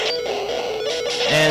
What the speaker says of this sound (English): And that sound is a level up.